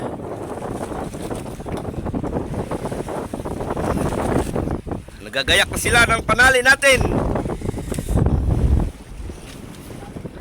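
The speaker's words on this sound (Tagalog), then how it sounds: "Lakas ng hangin." Strong wind at sea on the Pacific Ocean buffets loudly against the microphone in gusts, with someone talking briefly beneath the roar.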